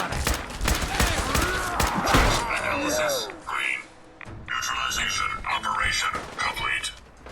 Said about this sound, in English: Why do I still hear gunfire?